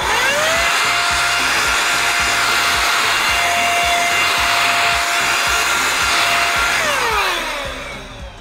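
A loud, high-pitched electric blower whines continuously for several seconds, airy hiss over a rattling motor, then winds down at the end.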